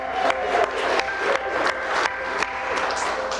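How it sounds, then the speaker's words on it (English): Applause at a wedding ceremony, a steady mid-loud wash of clapping from guests that continues throughout the few seconds with slight swells and no clear speech on top. "Round of applause for Stu."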